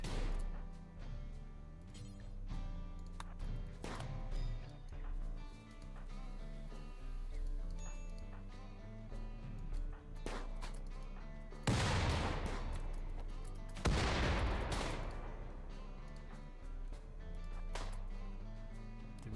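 Grenade explosions and gunfire in a video game: two loud, heavy blasts burst out about two seconds apart over steady game music, with smaller pops scattered before them.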